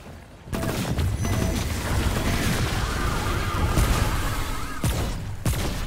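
Dense, sustained gunfire in Remnant: From the Ashes, a near continuous rattle of rapid shots filling the whole stretch, with a couple of sharp louder blasts near the end and no talk.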